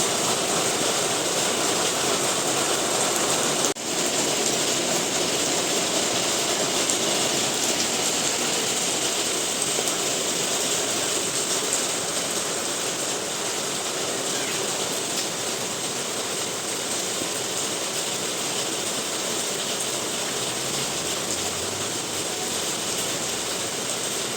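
Heavy monsoon downpour produces a dense, steady, loud roar of rainfall with no break, heard alone with no voices.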